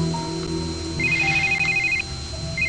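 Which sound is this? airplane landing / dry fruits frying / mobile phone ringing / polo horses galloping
mobile phone ringing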